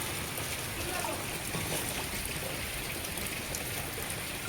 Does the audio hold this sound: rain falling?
yes